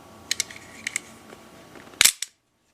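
Batwing swinguard 13-inch switchblade knives with burl wood handles snap open and shut: several sharp metallic clicks, then one loud close crack near the end followed by silence.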